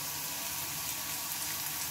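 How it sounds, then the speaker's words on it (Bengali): Pointed gourd peels frying in a pan, giving off a steady, even sizzle and hiss that holds throughout at a moderate level, with no talking. "তো এগুলোকে এখন একটু আমি ভেজে নেব।"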